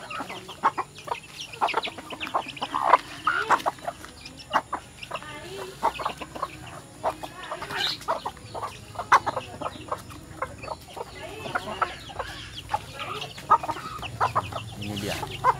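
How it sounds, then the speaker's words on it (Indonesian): Repeated clucking from a newly caught wild red junglefowl close by, short irregular bursts of clucks and squawks over a quiet outdoor background. "Ini tangkapan baru ayam hutan. Ayam hutan asli."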